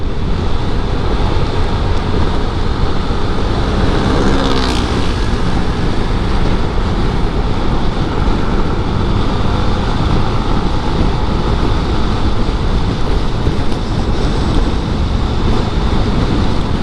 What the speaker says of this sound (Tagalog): So dito sa baba maluwag, lakas ang hangin,